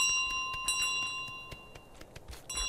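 Several bright little bell dings ring out in Untitled Goose Game, short metallic tones scattered among soft shuffling game noises.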